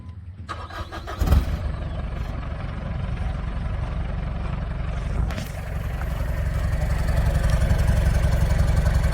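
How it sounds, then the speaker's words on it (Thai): Mitsubishi Strada 4WD pickup with a 4M40 turbo diesel and a 3-inch straight-through exhaust at the stock outlet, cranking and firing up close by, then settling into a steady, rumbling idle that grows slightly louder. "เดี๋ยวผมจะให้เพื่อนๆฟังเสียง เวลาสตาร์ทเครื่องแล้วก็สโลเนาะ"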